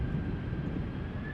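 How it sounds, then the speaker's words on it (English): An Air France Embraer 170 departs from Amsterdam Schiphol in windy weather. Its jet noise is a steady, broad roar with a thin high tone, heard from a moderate distance over a short stretch with no voices. "The Air France hop to Rennes, the Embraer 170"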